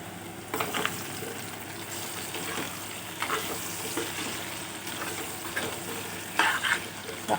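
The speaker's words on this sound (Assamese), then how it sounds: "আলু এড কৰাৰ পিছত ইয়াত মই বিলাহীখিনিও এড কৰি দিম।" Pork from a traditional Assamese dish with taro sizzles in oil while potatoes and tomatoes are stirred in, a continuous close frying hiss punctuated by scraping spoon strokes and brief sharper spatters.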